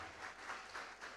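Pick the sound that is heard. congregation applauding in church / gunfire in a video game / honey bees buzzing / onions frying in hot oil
congregation applauding in church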